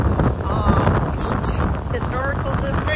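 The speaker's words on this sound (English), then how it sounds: "as you can tell, it's very windy today" Strong wind buffets the microphone on a Gulf beach, a loud, constant roaring rush with a voice faintly audible beneath it.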